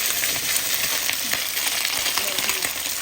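Chicken pieces frying lightly in oil in a pan, giving a steady, fairly loud broadband sizzle with small crackles and pops scattered throughout, no talk over it.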